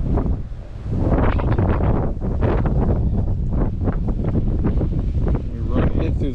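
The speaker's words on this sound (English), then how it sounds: "the wind is not cooperating at all" Strong wind buffets the microphone outdoors while outriggers are rigged on a 2003 Pro Line boat, a loud, continuous rough rumble with gusty surges throughout and no speech.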